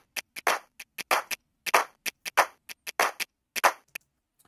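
Layered hand clap and finger snap loops from an Ableton pop production playing together: steady fuller claps interleaved with quicker crisp snaps in a busy, syncopated pattern, with no talking.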